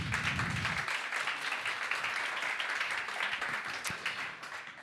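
An office audience at a weekly breakfast meeting applauds, a continuous wash of many hands clapping at moderate distance, fading slightly toward the end.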